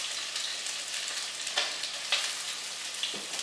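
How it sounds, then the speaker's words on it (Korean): Green onions and onions stir-fry in oil with a bright, hissing sizzle. A few short scrapes and tosses of stirring surge over it, with no voices. "일단 파기름이 나듯이 이렇게 파와 양파를 넣고 먼저 좀 볶아주거든요"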